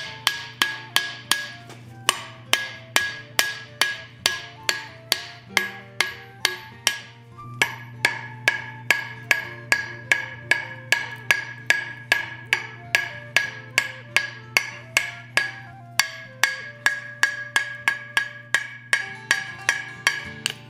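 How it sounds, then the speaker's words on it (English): Steady hammer blows forge hot steel into an elephant head for a chess piece, ringing anvil strikes landing in a fast regular rhythm, loud and close with brief pauses between bursts. "I'm about an hour into forging now"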